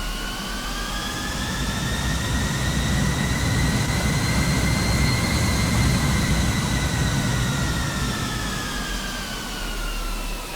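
Twin jet engines of a FlightFactor A320 Neo spool up steadily as thrust is added, a loud continuous roar with rising whining tones that swell and then ease slightly, no voices.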